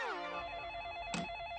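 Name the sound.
telephone ringing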